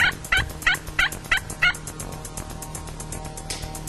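A wild turkey gobbler gobbles in a loud, close run of about six rapid, evenly spaced bursts, after which only faint outdoor background remains, with no speech.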